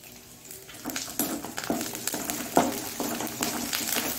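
Curry leaves dropped into hot oil for masala poha, setting off a steady, fairly loud sizzle and crackle with stirring scrapes throughout.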